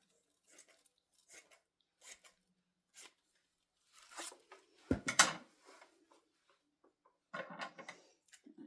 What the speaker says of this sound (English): I think I'll cut a strip of this.